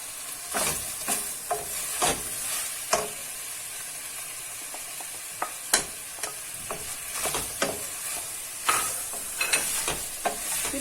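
Diced zucchini sizzles and hisses steadily in a pan while a utensil stirs and scrapes it in sharp, irregular bursts, close and fairly quiet.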